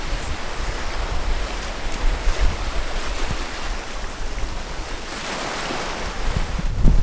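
Waves on a lake after a storm wash and splash close by, with heavy wind buffeting the microphone in uneven gusts and surges throughout.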